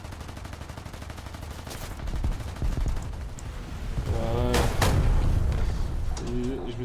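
Aircraft guns firing in War Thunder, sustained rapid bursts of gunfire over a steady engine drone, with a voice talking in places.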